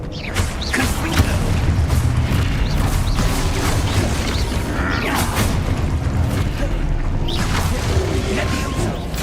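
Repeated Confringo blasting spells explode during Hogwarts Legacy combat, a dense, continuous stretch of booms, crackles and creaking mechanical effects mixed with intermittent game voices.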